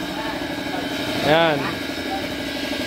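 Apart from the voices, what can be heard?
motorcycle engine idling after tune-up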